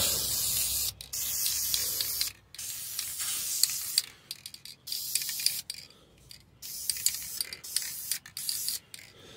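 Protective coating is sprayed from an aerosol can onto an MGB brake master cylinder part in a shed, in loud hissing bursts broken by short pauses and the can's clicking.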